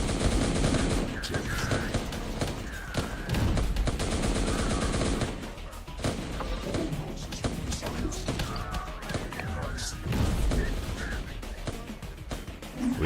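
Dense gunfire from the video game Terminator Dark Fate Defiance, with rapid automatic bursts and repeated loud shots that run almost without a break, heavy and near, while a voice talks faintly underneath.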